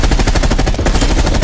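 Incendiary rounds fire in Call of Duty Black Ops Cold War Zombies in one loud, continuous rapid burst of automatic gunfire lasting the whole moment.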